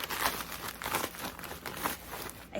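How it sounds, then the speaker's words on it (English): A plastic bag is cut open with scissors beside yarn and fabric, giving close, continuous crinkling and crackling with a few sharper snips across a couple of seconds. "I'm also afraid to cut bags for fear that I'll like cut fabric"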